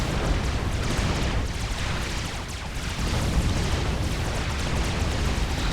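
Heavy naval cannon fire from a Salem-class destroyer in the real-time strategy game Supreme Commander, a dense continuous rumble of booming blasts and explosions filling the whole stretch with no talk.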